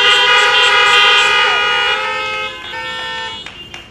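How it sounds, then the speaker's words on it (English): Many car horns honk together in a long sustained chorus at a high school freshmen welcome event, loud and steady before fading into scattered shorter toots near the end. "Give yourselves another honk."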